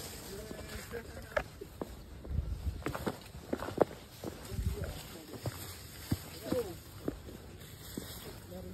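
Footsteps on a descending mountain trail at Gunung Baling, a loose series of irregular scuffs and crunches at close range, with faint background voices and ambient forest noise.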